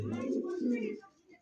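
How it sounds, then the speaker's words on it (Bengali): A pigeon, a Budapest breed kept for sale on a farm, gives a short, close, low cooing call that fades out near the end. "একদম ওরান্না কবুতর, বিবেক বুদাপেস্ট কবুতর দেখেন খুবই সুন্দর"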